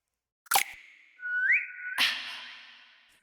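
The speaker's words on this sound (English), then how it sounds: "what made this song cool is like this little transition with the whistle" A short whistle transition in a K-pop dance track: a sharp hit, then a sustained whistled tone that slides up a step and holds before a bright crash-like burst washes out.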